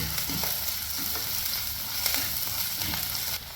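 Onion and green chillies sautéing in a pan give a loud, continuous hiss with faint stirring scrapes throughout, dropping slightly at the very end.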